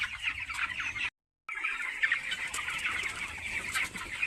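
A flock of 19-day-old broiler chickens clucks and chirps continuously inside a poultry shed, a dense, fairly faint chatter broken by one brief gap of silence.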